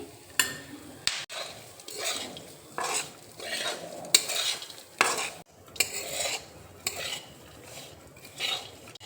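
Coconut powder and poppy seeds are stirred and dry-roasted in a pan, with a spatula scraping and knocking against the metal in a repeated rhythm over a light sizzle, close and alone.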